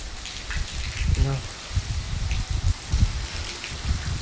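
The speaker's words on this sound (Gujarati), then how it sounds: "જો મિત્રો વરસાદનો જોરદાર વરસાદ છે." Heavy first-season rain pouring down outdoors, a dense steady hiss of drops with water splashing on surfaces, close and loud throughout.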